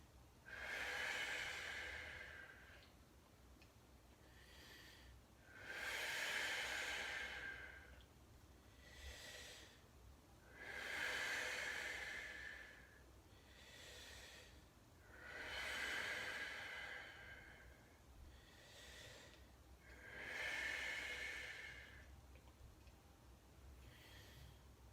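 Slow, deep breaths during a hip and hamstring stretch for the splits: about five long, airy inhale-exhale cycles, each several seconds long, soft and close with a breathy, slightly nasal hiss and no talking.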